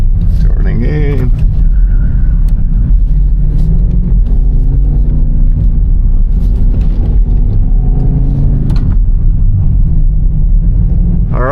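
A heavy BMW XM SUV driving hard on a Formula 1 circuit, its engine a loud, steady low rumble right up close inside the cabin while the driver talks over it.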